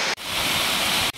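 Water flowing near a cave in Odisha gives a steady, loud broadband rush like a waterfall, continuous and alone across the short stretch with no voices.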